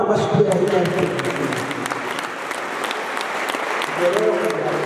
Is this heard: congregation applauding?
yes